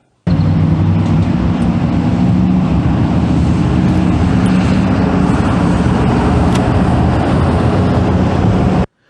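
A motorcycle engine drones steadily and close by as the throttle is rolled off for braking, a loud continuous hum with wind noise and no talking.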